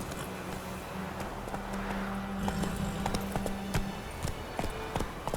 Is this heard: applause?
no